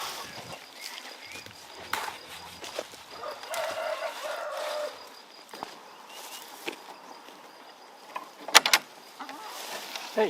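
Chickens cluck in short scattered bursts at moderate distance on a Portuguese farm, with a few sharper calls near the end and light shuffling in between.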